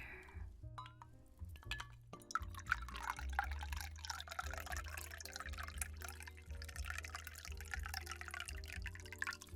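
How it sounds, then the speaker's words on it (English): A drink is poured into a glass in a quiet bartender setting, a faint trickle and drips with occasional light clinks under soft background music for several seconds. "Let me pour this in your glass here."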